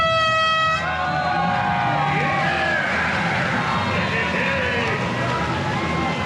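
A loud air horn blasts once at the start of a triathlon, then a crowd cheers and yells across the open course as racers set off.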